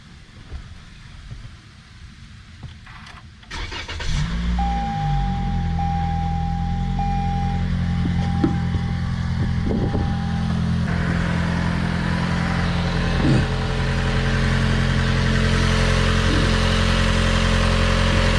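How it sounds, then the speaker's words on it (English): A 2020 Toyota Corolla engine cranks briefly and catches, then settles into a steady, close idle hum with a faint high whine running over it, no voices. "Alright, we're going to start the car"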